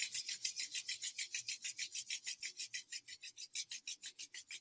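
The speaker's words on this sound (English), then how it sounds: "bring your palms together, give them a nice little rub" Palms rub briskly together in a quick, steady back-and-forth rhythm, about six strokes per second, close and dry, with no voices.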